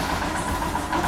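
A Royal Enfield Himalayan motorcycle engine idles with a steady, close, low rumble and light mechanical vibration, with no voices over it.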